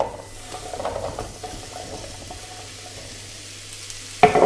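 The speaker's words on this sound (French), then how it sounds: "On va maintenant verser les courgettes." Diced courgettes hit hot olive oil in a frying pan, a sudden loud sizzle erupting near the end after a quiet stretch of faint kitchen clatter.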